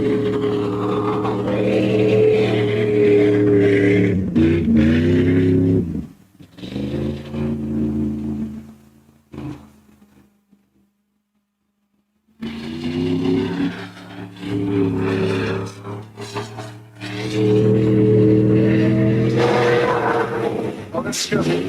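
The big Dodge Durango mud racing truck at a mud race revs loudly and roughly, then drops to near silence before roaring back up in long, heavy bursts.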